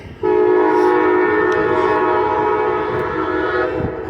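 A train rumbles past close by in Carbondale, Illinois, near an old train station, its loud sustained horn blaring steadily for several seconds before fading slightly at the end.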